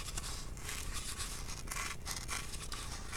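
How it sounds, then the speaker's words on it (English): Scissors snip paper away close to the edge of a cardboard tube in a quiet room, giving a steady run of soft scraping, crinkling cuts. "with these scissors, I'm just going to go as close as I can to that edge"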